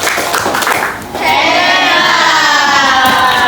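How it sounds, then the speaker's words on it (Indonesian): A classroom of children clapping the 'tepuk hebat' chant for group 6, a loud, close burst of massed rhythmic claps and voices that dips briefly, then swells into sustained cheering chant. "sekarang kita kasih tepuk hebat buat kelompok 6"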